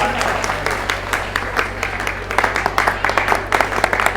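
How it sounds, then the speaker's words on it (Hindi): Devotees at Mundhal Dham clap loudly during an honoring ceremony, the crowd's applause growing sharper and more distinct in the second half over a low steady electrical hum. "जोरदार तालियां बजा दो एक बार"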